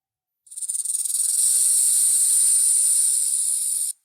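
A snake gives one long, loud, sustained hiss that starts with a few quick pulses and then holds steady for about three seconds, close and alone.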